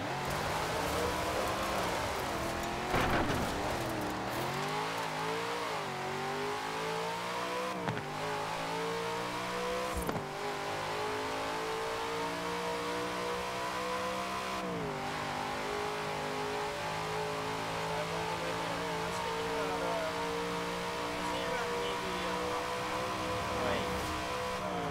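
A car in a Forza Horizon 4 dirt race drones steadily at high revs, its engine note climbing and dipping with gear changes and throttle lifts, constant and close throughout, with a few bumps and knocks.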